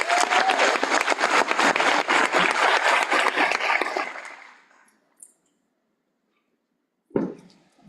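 An audience at a graduation ceremony gives sustained, loud applause that fades out after about four seconds, leaving near silence broken by a short later burst of sound.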